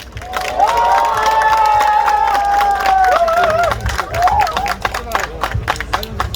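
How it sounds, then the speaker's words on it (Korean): An outdoor crowd at an election campaign kickoff rally in a market claps and cheers steadily, with a loud singing or chanting voice carried over the applause and the noise thinning toward the end. "여러분 힘찬 박수로 맞이해 주십시오."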